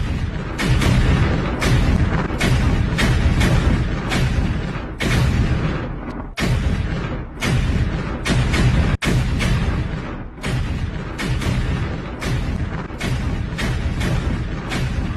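Landmines being destroyed by an Israeli army machine in Gaza, heard as a long series of loud, booming bursts that repeat closely one after another, with brief gaps between some blasts.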